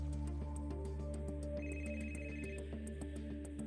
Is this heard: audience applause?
no